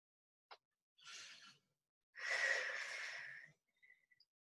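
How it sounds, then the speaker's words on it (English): Quiet breaths during a lower-body floor exercise: a brief sniff, then a soft exhale, a longer drawn-out breath, and a few faint puffs at the end, close and alone. "Also breathe."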